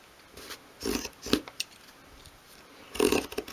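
A Swann Morton retractable craft knife cuts a small piece of wood against the grain in short rasping scrapes, in two close bursts with a quiet gap between them.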